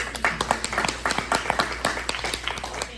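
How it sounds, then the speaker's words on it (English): An audience at a school district trustee candidates' political forum gives a scattered round of applause, the individual claps close and irregular with no talking over them. "I'd like to give a round of applause to everybody."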